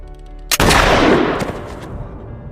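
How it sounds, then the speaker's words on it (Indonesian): A single loud, close gunshot from a film scene in which a woman is shot in the head, with a sharp crack followed by a long decaying reverberant tail and no talking. "tanpa ragu menembak si wanita tepat di kepalanya"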